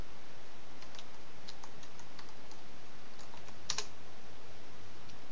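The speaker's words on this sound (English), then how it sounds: "Let's type it in." Typing on a computer keyboard during a Google search, a quick run of light clicking keystrokes heard alone at close range, ending in a sharper cluster of clicks.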